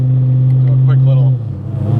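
A 1,000HP Camaro SS running on pump fuel with a little methanol accelerates hard in third gear, a loud, close, deep engine drone that drops away toward the end.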